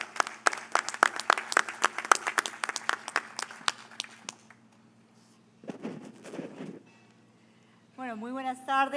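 An audience at an international industrial parks conference claps for about four seconds, a modest, fairly sparse round of applause that fades out into quiet before a voice begins speaking.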